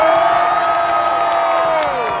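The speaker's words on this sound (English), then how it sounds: "I think we need to give a big cheer for the lads" A large crowd at a Dublin homecoming cheers and whoops for the team, a sustained roar of voices that holds steady for about two seconds and fades slightly at the end.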